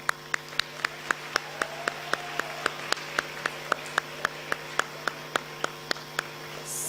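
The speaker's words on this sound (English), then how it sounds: "give yourself a round of applause because you did it" Sparse, evenly spaced single claps in a quiet room at a primary school graduation ceremony, one sharp clap roughly every third of a second, fairly faint over a steady low hum.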